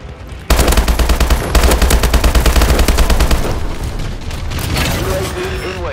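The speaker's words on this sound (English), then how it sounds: "Friendly bombing run clearing the way." Call of Duty: Advanced Warfare bombing run, with a loud roaring burst of rapid gunfire and heavy explosions that pound continuously for a few seconds, then ease into a lower rumble with a rising whine, while a voice talks underneath.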